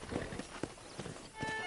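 A horse's hooves clip-clop in Red Dead Redemption, a quick run of close, distinct hoofbeats in a short burst with a faint trace of voice behind them.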